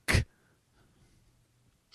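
A single sharp, loud sneeze bursts out right at the start, followed by near silence with faint breathing and a brief soft sound at the end.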